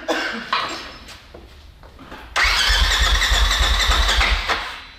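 A 270 hp Polaris RZR Turbo S side-by-side with a big turbo cranks and fires up, jumping from starter whir to a loud steady rumbling idle, close by and alone.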